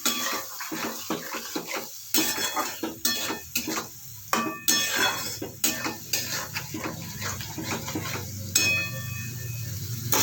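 Spoon scraping and clinking in a pan as ground spice paste is stirred and fried for a potato and pointed gourd curry, with a drop of water added; irregular close scrapes and knocks over a low sizzle.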